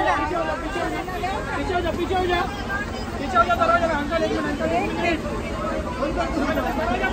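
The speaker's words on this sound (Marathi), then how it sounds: "बापरे गर्दी" Dense crowd chatter from many people pushing to board a bus on the way to Bhimashankar, a steady babble of overlapping voices with a low vehicle hum underneath.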